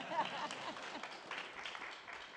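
An audience at an education technology conference claps in a faint, steady patter of many hands that lasts the whole short stretch.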